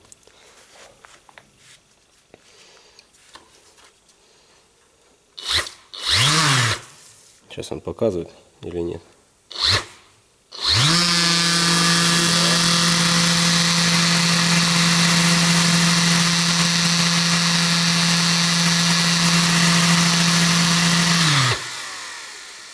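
Mirka Deros electric sander running, preceded by speech and a few short bursts. The motor then spins up and holds a loud, steady whine with a fixed hum for about ten seconds before cutting off.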